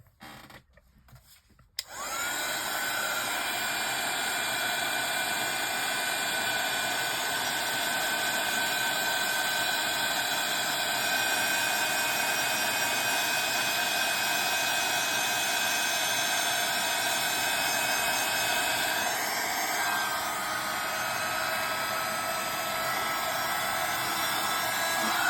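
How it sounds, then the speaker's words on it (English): A heat tool blows with a loud, steady whirring roar that starts abruptly after a short quiet moment and runs continuously to the end while drying a craft project. "I'll just dry that off with my heat tool."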